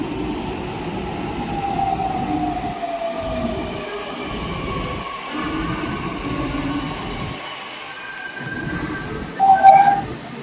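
A metro train at Pune station rumbles along with a low rolling drone and soft clatter that rises and falls, plus a brief squeal near the end, all fairly close and with no voices.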